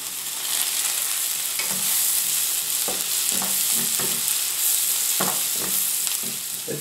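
Pickled green peppercorns sizzle steadily in a hot pan, with a constant bright frying hiss and scattered scraping knocks as a utensil stirs them, close and without voices.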